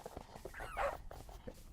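A dog whimpers and whines softly at close range, a short high plaintive cry in the middle of quiet shuffling and light footsteps, faint overall.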